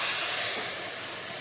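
Water is poured onto shrimp cooking with turmeric and salt in a hot kadai-style pan, giving a loud, steady broadband hiss that carries unbroken through the whole moment.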